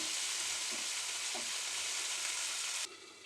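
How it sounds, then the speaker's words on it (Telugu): Okra frying in a pan over a low flame, a dense continuous sizzle heard up close with a couple of faint stirring touches, cutting off abruptly near the end. "ఇంకొద్దిగా ఫ్రై అవనిద్దాం."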